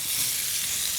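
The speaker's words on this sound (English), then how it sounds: "We'll give that a stir." Pork browns in oil in a pan, a close, steady, bright sizzle lasting the whole moment without voices.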